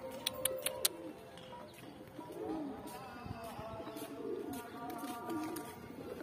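Pigeons coo softly and repeatedly nearby, with scattered clicks and rustling and a faint background murmur.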